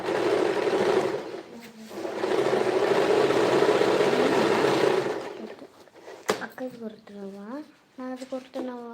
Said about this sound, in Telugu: విజయ గారు స్టిచ్చింగ్ చేస్తున్నాను